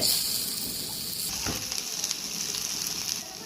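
Fish cutlet mixture sizzles and fries in a pan, a steady close hiss with occasional stirring scrapes, alone without talk.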